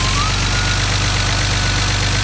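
A stock BMW M3 idles up close with a loud, even mechanical drone, a fast regular pulse and a noisy top end, steady throughout.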